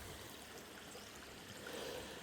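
Water flowing slowly through a deep section of a creek, a faint continuous trickling wash with no voices.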